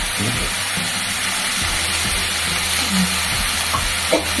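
Turmeric and tomato go into a frying pan and get stirred, giving a steady sizzle with soft scraping and a few clinks of the spoon, close and fairly loud.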